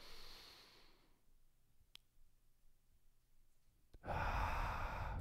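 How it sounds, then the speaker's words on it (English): A single deep breath during a vinyasa yoga class, drawn in and released audibly, with a quiet pause between the inhale and a louder, breathy exhale near the end. "Big breath."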